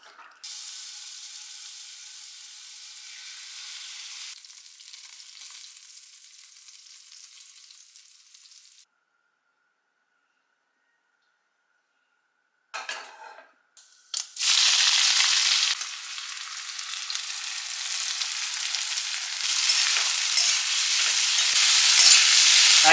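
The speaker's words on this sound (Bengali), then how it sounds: "তো চিকেনটা প্রথমে ফ্রাই করে নেবো" Chicken frying in a pan: a low sizzle at first, then a pause of near silence, then a loud, dense, steady sizzle that builds and keeps going to the end.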